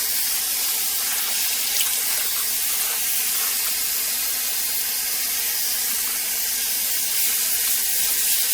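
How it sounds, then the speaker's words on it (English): Tap water runs steadily into a kitchen sink as raw chicken is rinsed, a constant close hissing splash that continues unbroken for nearly nine seconds with no voices. "I'm going to rinse this very well and drain it"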